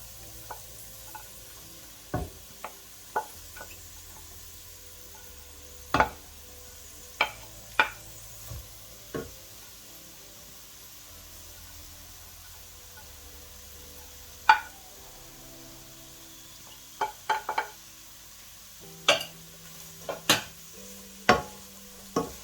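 Vegetables stirred in a pan while cooking for couscous, with sharp utensil clicks and scrapes against the pan scattered irregularly over a faint, steady sizzle in a quiet kitchen, no talking.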